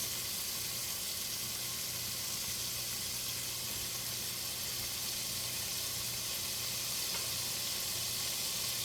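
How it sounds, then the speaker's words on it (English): Chicken and onions sauté in a pan with a steady, close sizzling hiss that stays even throughout, with no talking. "sauteing these suckers"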